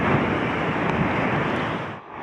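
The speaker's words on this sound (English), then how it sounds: "The waves are breaking awful close here." Ocean waves break against coastal rocks in a loud, continuous roar of surf and rushing water, close by with some wind noise, easing off briefly near the end.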